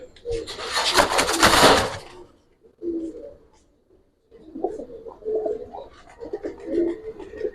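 Giribaz pigeons in a loft give soft, low repeated coos after an opening burst of broadband rustling or wing flutter, with quiet gaps between the calls.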